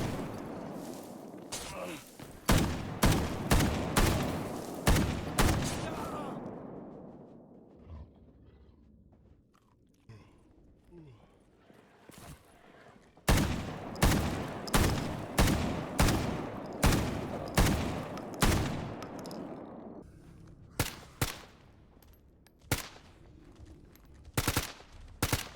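An AK rifle in S.T.A.L.K.E.R. GAMMA fires in loud rapid bursts and single shots, each crack followed by a fading reverberant tail, with short pauses between volleys and a quiet gap in the middle.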